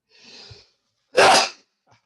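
Single loud sneeze during an online class: a soft preparatory inhale, a brief pause, then one sharp explosive burst, close and clear with no talk.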